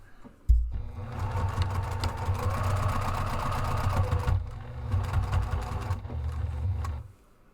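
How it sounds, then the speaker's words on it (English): A sewing machine stitches a straight row down the center of a zipper frame on a ziptop diaper bag. The motor runs loud and steady for about four seconds, breaks off briefly, then runs on in a second long burst. "And then I also like to run a row of stitching right down the center of that."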